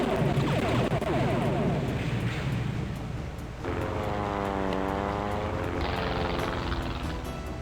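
Propeller engine drone of a biplane in the Star Trek: Judgment Rites video game, a steady loud buzz that shifts pitch partway through, with no talking.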